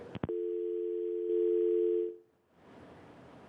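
Steady telephone line tone on a call-in talk show after the caller drops off, opening with a couple of short clicks, then a continuous loud two-pitch tone that cuts out after about two seconds, leaving quiet room noise.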